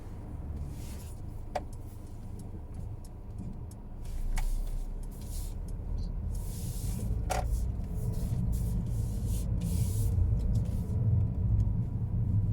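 A Mercedes car pulls away from a parked position on a driving test route in Greenford, its low engine rumble swelling gradually from inside the cabin, with faint clicks and thumps scattered through the steady hum.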